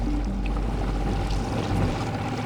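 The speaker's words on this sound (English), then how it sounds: "Making some choppy water here." Small boat's hull slapping through choppy lake water while scanning for a sunken car, a steady low rumble of engine and wash close by, continuous and fairly loud with no voices.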